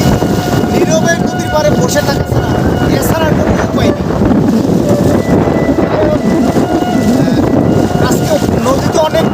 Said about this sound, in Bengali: ঢেউ হচ্ছে যার কারণে মানে নৌকা নিয়ে নদীতে যাওয়ার মতন পরিস্থিতি নেই